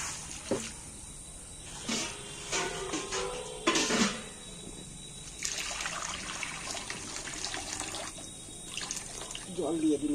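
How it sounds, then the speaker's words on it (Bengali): Water poured into a wok on a lit stove while making a Bengali curry, heard as intermittent splashing and trickling bursts that come and go across the clip at moderate loudness. "কড়ায় আমি এইবার বেশ খানিকটা জল দিয়ে দিচ্ছি"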